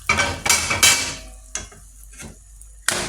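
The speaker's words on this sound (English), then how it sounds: "and you continue stirring." Fried groundnuts being stirred into sugar in a pot, several sharp scraping and clattering strokes of a utensil against the pot, close and loud, separated by brief pauses.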